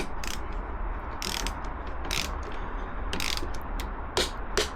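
Ratcheting clicks come from a torque wrench tightening the top clamp and clip-on pinch bolts on a Triumph Daytona 675 during a headstock bearing service. Short bursts of close mechanical ticking repeat several times over a low workshop hum.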